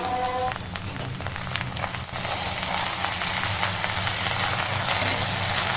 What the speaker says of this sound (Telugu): ఈ బెండకాయ ముక్కలు 5 to 10 మినిట్స్ నూనెలో మగ్గాలి.